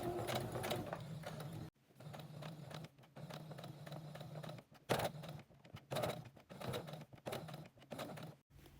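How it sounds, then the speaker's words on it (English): A sewing machine runs slowly around a circle, its steady mechanical whir broken by several short pauses as the presser foot is lifted and the fabric turned, close and fairly quiet. "I'm going to very, very carefully sew around that circle."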